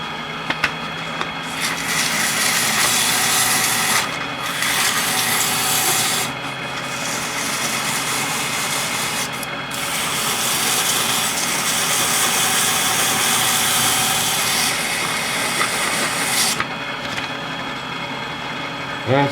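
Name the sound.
power sanding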